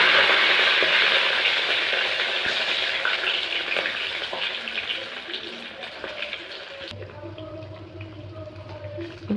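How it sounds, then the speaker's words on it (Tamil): Ground batter fries loudly in a pan while being stirred constantly, a dense close sizzle with scraping strokes that drops to a quieter low bubbling near the end. "இந்த மாதிரி நல்லா கிளறிக்கிட்டே இருக்கணும்."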